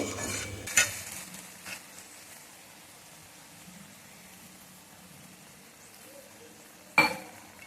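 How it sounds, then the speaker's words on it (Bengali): Banana flower curry being stir-fried after a little water is added, a faint low simmering hiss broken by a couple of sharp spoon knocks against the pan, close and quiet with no talking. "সামান্য পরিমাণে একটু জল দিয়ে ভালো করে কষিয়ে নেব মোচাটা"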